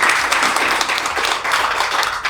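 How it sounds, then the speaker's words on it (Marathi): An audience at an award ceremony applauds with dense, loud clapping that is close and sustained. The applause runs unbroken through the short moment. "एकदा जोरदार टाळ्या होऊन जाऊ"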